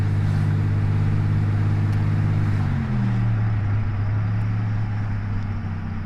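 A 1987 Buick GNX runs steadily on the road, its engine a loud, continuous low drone with a smooth downward pitch shift near the three-second mark, like an upshift, over constant road noise.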